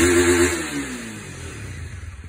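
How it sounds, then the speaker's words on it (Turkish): A Honda CB250R motorcycle on its stock exhaust gives a short, sharp rev that falls back toward idle, loud and close, with the engine pulses audible as it settles. "Değiştirmeden önce stok egzoz ile bir çalıştırmak istedim."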